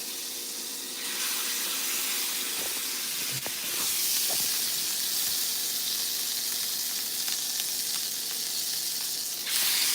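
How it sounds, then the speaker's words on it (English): Picanha beef fat sears in a hot pan for tacos, giving a steady, close sizzle and hiss that swells slightly after the first second and continues evenly with no talking. "So now we go ahead and sear that fat cat."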